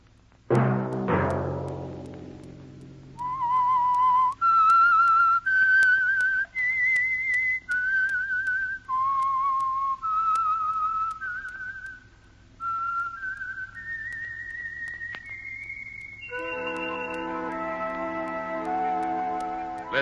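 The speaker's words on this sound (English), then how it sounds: "Let that whistle be your signal for the Signal Oil program, The Whistler" The theme tune of the radio show The Whistler is whistled alone and loud, a series of sustained pitched notes stepping through a melody and rising toward the end, followed by a brief musical chord.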